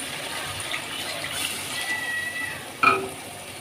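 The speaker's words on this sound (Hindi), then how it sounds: "ग्रेवी वाला पानी ही मैं इसमें शामिल करूँगी" Gravy water poured into a pot of frying masala for chicken aloo kofta, a steady close gushing pour with a brief splash near the end.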